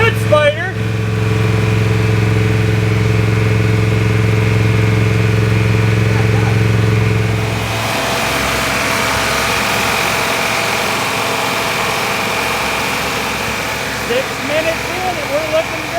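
A 1966 Cadillac Fleetwood V8 idling after its first start, a loud steady low rumble with a humming tone for several seconds that then settles into a rougher, slightly quieter idle, with people talking nearby.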